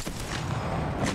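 Gunfire in the video game Apex Legends, a dense burst of rapid shots that runs through the whole moment at steady loudness.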